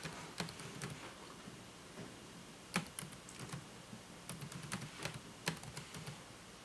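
A domain name being typed on a computer keyboard: quiet, irregular runs of crisp keystroke clicks with short pauses between bursts, close by, with no talking.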